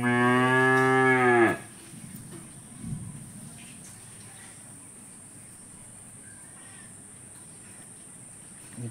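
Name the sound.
cow mooing from hunger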